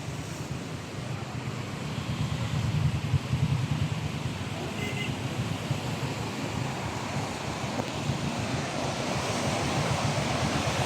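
Heavy floodwater rushes through a large stream near the stadium and TV tower in Anantapur, a dense, continuous roar of churning water with some wind buffeting the microphone.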